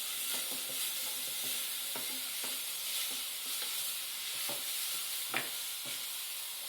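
Spinach pakora mixture fries in a pan while being stirred, giving a steady low sizzle broken by soft repeated scraping strokes at an uneven rhythm.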